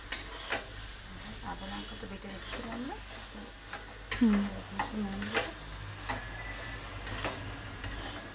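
A spoon stirs dal paste frying in a pan, scraping and clinking in repeated strokes over a constant soft sizzle, close up, with a voice speaking in the background.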